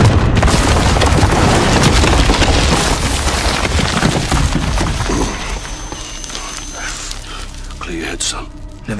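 Missile strikes in Call of Duty: Modern Warfare erupt as heavy booms with crashing, shattering debris, loud and dense at first, then settling into rumbling aftermath with scattered cracks toward the end.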